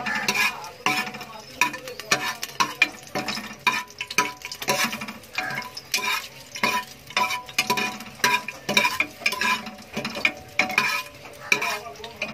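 Bay leaves and whole spices, including cardamom, fry lightly in oil over a medium-low flame for a mutton curry, with a soft sizzle beneath frequent clinks and scrapes of a spoon stirring against the pan.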